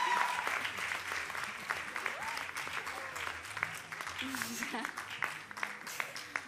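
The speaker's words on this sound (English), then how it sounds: "Another round of applause, please." Applause from an audience at a Girls in ICT Day event in Rwanda, honoring the women behind it; steady clapping fills the room throughout, with faint voices and a few cheers mixed in.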